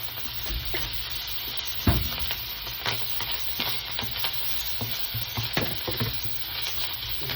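Ham fries in a pan with a steady, dense sizzle running throughout. Scattered small ticks and pops sit on top, close and moderately loud.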